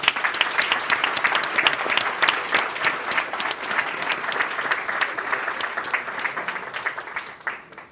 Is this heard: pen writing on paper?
no